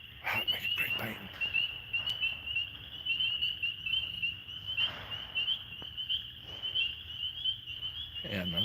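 Frogs outdoors keep up a steady, high trilling chorus with pulsing croaks, heard from mid-distance, while people talk quietly now and then.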